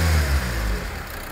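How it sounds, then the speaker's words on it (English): A Land Rover Freelander 2 with an intermittent hesitation fault gives a brief rev, its low engine note swelling and then easing back toward a softer hum. "Just to give it a little rev, Emma."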